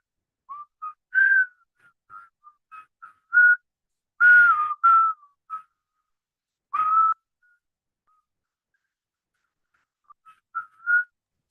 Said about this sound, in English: I told you you can't whistle.